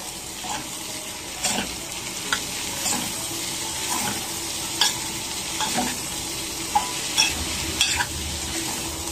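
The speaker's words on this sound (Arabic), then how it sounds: "ونقلب." Green beans and minced meat are stirred in a pan, a steady low sizzle broken by repeated soft scraping and clacking strokes of a utensil, close up, with no talking.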